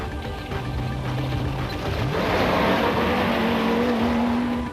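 A turbo Toyota Hilux rally car on the Roof of Africa rally in 1990 drives fast, its engine loud and close with a rising, sustained drone as it accelerates past.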